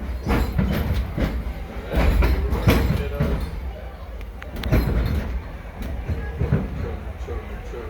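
The Disneyland Railroad train, pulled by the Fred Gurley locomotive, rumbles along the rails with rhythmic clacking and low mechanical noise, swelling and fading in waves as it rolls on.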